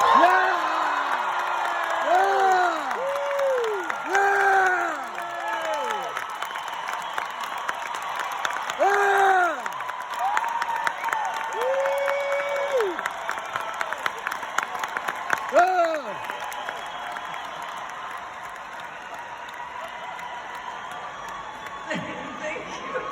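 Audience clapping and cheering, with continuous applause under repeated high whoops and shouts that rise and fall, and a voice speaking at intervals before the clapping thins out toward the end.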